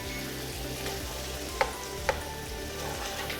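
Sausage sizzling in a pan while being broken into small crumbles, with a steady close frying hiss, two sharp spatula clicks against the pan, and no voices.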